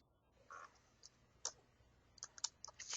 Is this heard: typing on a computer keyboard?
yes